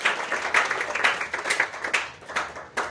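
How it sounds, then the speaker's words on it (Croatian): An audience at a stand-up comedy show applauds for a heckler, a moderate burst of clapping with uneven individual claps that holds steady for a few seconds. "evo jedan aplauz za njega"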